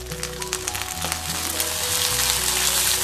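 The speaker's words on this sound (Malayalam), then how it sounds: "മല്ലിയിലയും വഴറ്റാം." Green chillies and coriander leaves sauté in a pan for chammanthi, a loud, close, continuous crackling sizzle lasting a few seconds with no voices.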